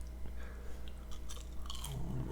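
Crunchy breaded diced chicken being chewed, with soft crunching bites close to the microphone over a low steady background hum, with no talk.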